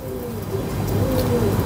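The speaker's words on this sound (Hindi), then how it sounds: "सब बड़े पल्लों के कबूतर हैं," Flying pigeons with large wing feathers coo softly in a loft, a low repeated burbling under steady background noise that gradually grows slightly louder.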